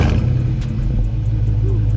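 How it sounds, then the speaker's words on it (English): A 2021 Dodge Charger R/T V8 idling right after a cold start, a loud, steady low rumble held close up for the whole stretch with no talk over it. "let's get that cold start really quick before we go"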